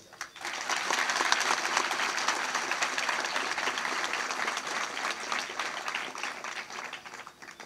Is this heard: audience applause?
yes